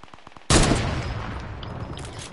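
A single loud sniper rifle shot in a video game cracks sharply and then rings out with a long decaying tail, preceded by faint ticking.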